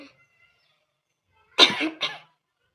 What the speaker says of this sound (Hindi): यही मेर के खांसी आवत है